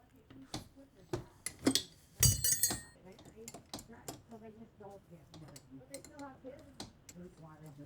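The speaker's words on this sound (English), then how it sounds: "take a crescent wrench or something like that and break the nut loose" A crescent wrench breaks loose a nut on a Honda lawnmower drive pulley shaft, giving close metallic clinks and a sharp clatter, followed by someone talking over a few light taps.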